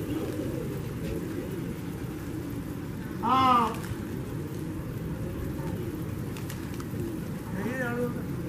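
Pigeons during a flock-flying contest, with a brief cooing or fluttering burst near the middle and a fainter one toward the end, over steady outdoor background noise.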